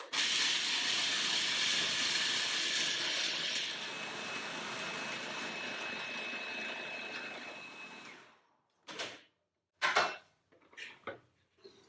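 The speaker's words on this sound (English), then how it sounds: "And I will process first to a coarse meal." Blender grinding almonds into a coarse meal, a loud steady whirring roar that runs about eight seconds then cuts off, followed by a few short knocks and clatters.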